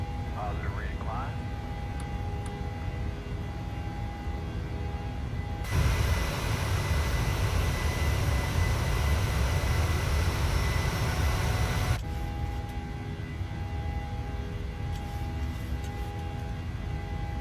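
Jet engines of a PMDG 737 in a flight simulator roar steadily during the takeoff climb, a loud broadband rumble lasting several seconds that rises above and then falls back to a quieter cockpit hum.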